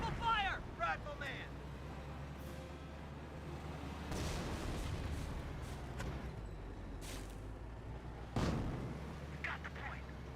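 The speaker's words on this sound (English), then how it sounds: "Taking rifle fire!" Rifle fire and heavier battle blasts crack intermittently across a Company of Heroes battlefield, several sharp reports scattered through a low rumbling din of combat and vehicles.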